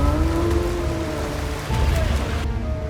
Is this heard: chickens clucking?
no